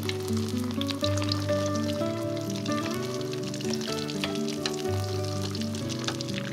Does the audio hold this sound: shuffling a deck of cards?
no